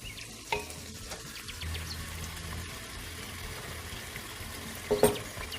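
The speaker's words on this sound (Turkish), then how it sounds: "Şöyle bir kavuruyorum, karıştıracağım." Tomato paste fries with butter and onions in a pan, a low steady sizzle close by with scraping stirs and a louder clatter near the end.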